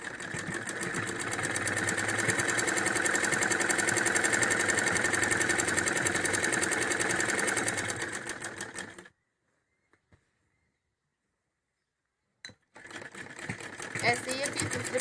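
A sewing machine stitches a Patiala salwar with a fast, steady mechanical whir, loud and continuous for several seconds. It then stops for a silent gap before running again in a shorter burst.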